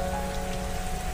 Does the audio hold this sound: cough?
no